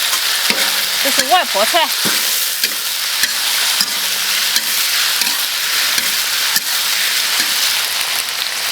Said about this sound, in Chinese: 它炒香啊，再下入魔芋